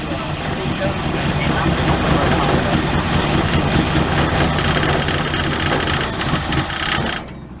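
Old 1967 Ford Galaxie 500 engine running steadily just after its first start in 25 years, a loud, continuous rumbling idle close by that cuts off abruptly near the end.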